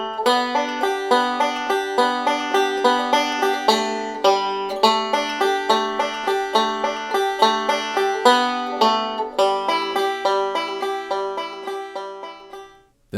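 A banjo picks an extended roll in steady, even eighth notes, bright plucked notes ringing one after another in a rolling pattern for about thirteen seconds, close and clear with no voices, before stopping.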